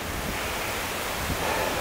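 Outdoor wind buffets the microphone in a continuous, dense roar of even intensity throughout, with no other distinct sounds.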